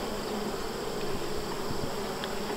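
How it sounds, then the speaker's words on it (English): Dense swarm of honeybees buzzing over comb where they are filling cells with honey, a steady close, continuous drone with no talking. "These are all bees putting honey into those cells."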